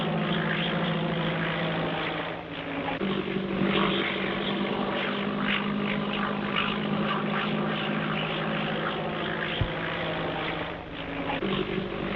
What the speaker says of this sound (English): Hey, where's this plane coming from?